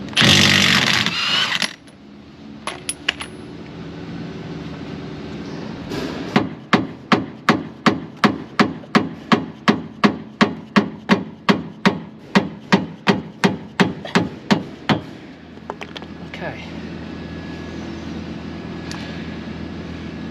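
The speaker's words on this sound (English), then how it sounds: "And then 30mm socket on the gun. Let's get the hub nut off." An impact gun fitted with a 30mm socket hammers at a hub nut on a Mk6 Fiesta ST150, a rapid steady series of about twenty sharp rattling blows, loud and close, then it stops.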